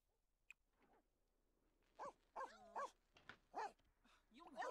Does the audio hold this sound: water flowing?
no